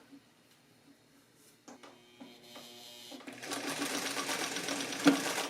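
A Singer 319W sewing machine starts stitching, quiet mechanical ticks building into a steady, loud whirring hum that runs continuously to the end.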